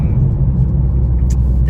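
A 2023 Toyota GR Corolla on the move, heard from inside as a steady low engine and road rumble, with a brief higher click or squeak near the end.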